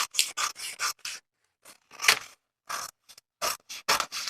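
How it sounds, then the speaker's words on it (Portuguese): Scissors cutting the armhole of a fabric blouse pattern, a series of close, crisp snipping and rasping cuts in short bursts separated by brief pauses. "Eu vou cortar aqui a cava deixando 1 centímetro de costura."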